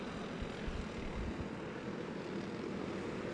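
A low, continuous engine drone from four-stroke racing karts held at full throttle on the track at Adams Motorsports Park, distant and fairly faint with no talk.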